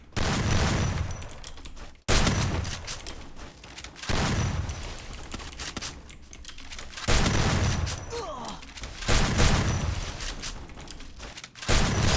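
Bursts of rapid gunfire in the Free Fire mobile shooter, several sustained volleys separated by brief pauses, loud and close throughout.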